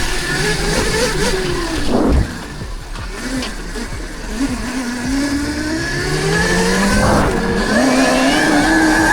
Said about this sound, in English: Wheels spinning everywhere, man.